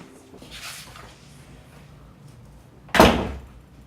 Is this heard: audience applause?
no